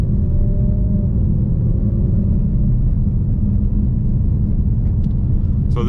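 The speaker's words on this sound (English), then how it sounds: "You can hear the Supercharger even when you're just cruising around." A 2024 Ford Mustang RTR Spec 3 with a supercharger cruises in normal mode, its heavy, steady engine and road rumble carrying a faint high whine inside the cabin.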